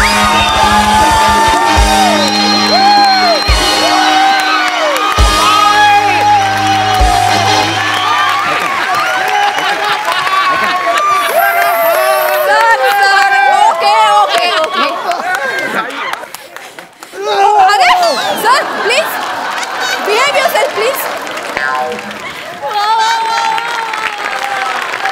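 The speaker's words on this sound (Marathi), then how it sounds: "एकदा जोरदार टाळ्या" A comedy show studio audience applauds and cheers for an employee-of-the-year award, with continuous clapping, shouts and whoops running under loud, overlapping talk and laughter throughout.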